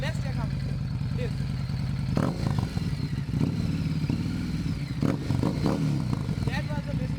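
Harley Davidson Street 750 motorcycle engine running and revving up close, a loud steady low rumble with sharper throttle blips around the middle and near the end, mechanical clatter underneath.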